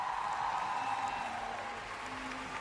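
An arena audience at the Grand Prix de France 2025 figure skating event claps for the women's free skating winner, a steady wash of applause that stays even and fairly distant throughout.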